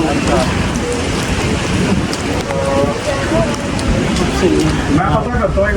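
Heavy rain pours down in a dense, steady roar at Omaxe World Street in Faridabad, with people talking over it nearby.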